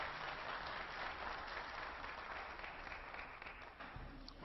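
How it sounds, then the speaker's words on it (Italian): Audience applause rises from the public gallery of the European Parliament plenary in Strasbourg, a dense, sustained wash of many hands clapping at moderate distance that holds steady for several seconds before thinning slightly. "To our guests in the gallery, you're not supposed to applaud."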